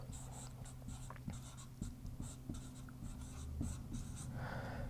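Pen or pencil scratches on paper close by, in short rhythmic strokes and taps that repeat steadily, faint against a low background hum, with no talk.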